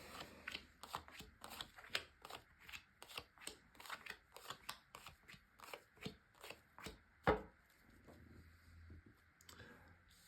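Tarot cards being shuffled in a steady run of quick riffling bursts, close and fairly quiet, with no talking.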